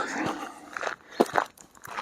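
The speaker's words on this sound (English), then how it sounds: "What is it with dogs and eating cow shit?" A dog eating cow dung: a few wet, crunchy chewing bites up close, irregular and brief, with soft rustling between them.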